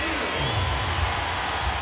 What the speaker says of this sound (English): the crowd enjoying that call